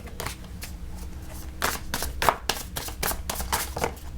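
Tarot cards are shuffled by hand, giving a series of quick papery riffles and soft taps in irregular bursts, close and fairly quiet.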